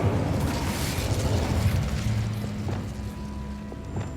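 Incendio fire spell cast in Hogwarts Legacy video game, a loud roaring whoosh of flames with low rumble that slowly fades, with a few sharp pops near the end.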